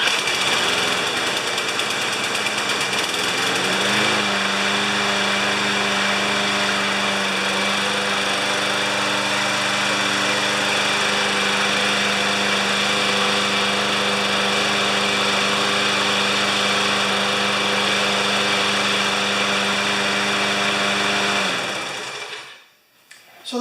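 A self-propelled lawn mower engine runs steadily at close range with a loud, buzzing drone that holds constant for a long stretch, then cuts out abruptly near the end.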